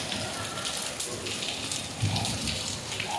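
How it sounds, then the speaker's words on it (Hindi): Heavy monsoon rain pours down steadily in a broad hiss with scattered splashes, fairly close and continuous throughout, with a brief louder burst partway through. "आपको दिखाती हूँ बारिश, आप आवाज़ सुन लो पहले।"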